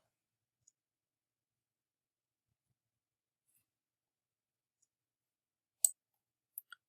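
Near-total silence, then a few faint, sharp computer mouse clicks near the end, one after another.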